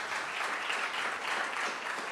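A church congregation applauds, a dense wash of many hands clapping steadily at moderate volume, sustained and even with no distinct voices.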